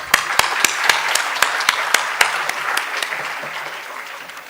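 A seated audience at a World Health Day 2025 celebration applauds Dr. Sunil Kumar Chandy: dense, steady clapping with sharp individual claps standing out, holding at full strength and easing slightly toward the end.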